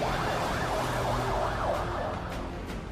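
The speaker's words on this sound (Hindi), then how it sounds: "एम्बुलेंस घायलों को अस्पताल पहुंचाने के लिए दौड़ती नजर आई" An ambulance siren wails in a repeating rising-and-falling pattern, at moderate distance, over a constant street rumble in Lebanon after an air strike.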